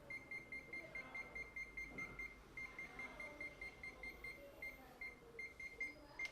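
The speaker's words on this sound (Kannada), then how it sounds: "ಹತ್ತಿರ ತೊಗೊಂಡೋದ್ರೆ ಅದು ಬೀಪ್ ಆಗುತ್ತೆ" An HTC DM 97 digital multimeter's non-contact voltage detector held near a live wire, giving a rapid string of thin, regular electronic beeps with brief gaps, faint and close, over quiet room tone.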